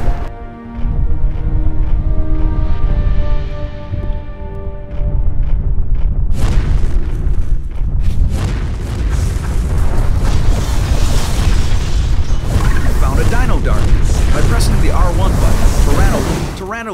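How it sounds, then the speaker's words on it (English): Dino Blast attacks in the Power Rangers Dino Thunder video game, heavy booming blasts with rumbling bursts that run almost continuously and loud, with a pitched electronic tone fading out early on. "Use your Dino Blast to destroy all of the targets"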